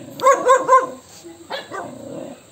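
A dog barks three times in a quick burst, close and loud, followed by lower grumbling barks and a growl.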